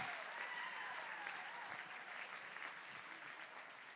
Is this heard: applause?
yes